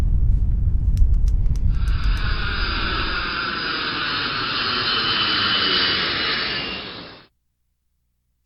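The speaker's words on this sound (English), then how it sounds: "Now boarding flight 503 at Gate B, departing for Paradise." A jet airliner takes off as a sound effect, a brief clatter giving way to a loud, steady roaring rumble with a bright hiss that holds for several seconds, then cuts off abruptly into silence.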